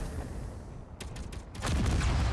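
Gunfire in the space-building game Space Engineers: a quick cluster of sharp shots around the middle, then a louder, denser burst that holds to the end over a steady background rumble.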